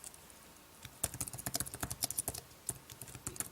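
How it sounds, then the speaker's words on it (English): Quick, light key taps on a Logitech Solar Keyboard Folio for iPad click in irregular bursts after a brief quiet start, close and crisp. "let's go ahead and go to Notes and start typing something"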